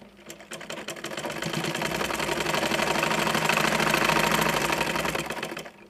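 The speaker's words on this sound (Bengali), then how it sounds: "আমি এটা আবার সেলাই দিয়ে নিই" A sewing machine stitches rubber elastic into pajamas, running in a fast, even mechanical chatter that speeds up, holds steady and then slows to a stop, close and clear, with no talking.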